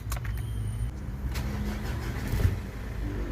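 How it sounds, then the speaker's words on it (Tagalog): A car engine with an overheating problem runs close by, a steady low rumble with a brief rise in intensity, and no voices over it. "paandarin muna natin tong sasakyan para makita nyo"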